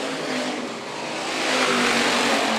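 IMCA Hobby Stock race cars roar around the dirt oval at Phillips County Raceway, engines swelling louder as the pack draws nearer, a continuous racing drone with no talk.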